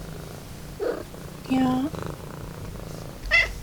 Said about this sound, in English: just meowing and meowing